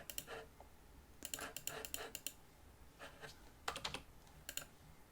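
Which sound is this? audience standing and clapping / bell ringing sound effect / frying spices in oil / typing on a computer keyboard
typing on a computer keyboard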